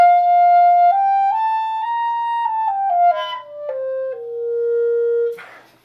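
Thin, pinched clarinet tone from a tight embouchure held at a flat angle, playing a slow line of sustained notes that rise and then fall, alone and fairly loud, with a brief breathy squeak near the end.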